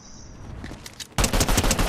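Rapid bursts of automatic gunfire in the video game Fortnite, sparse, softer shots at first, then a loud, dense volley of repeated shots in the final stretch.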